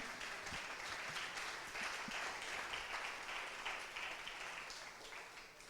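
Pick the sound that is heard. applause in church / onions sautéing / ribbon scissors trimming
applause in church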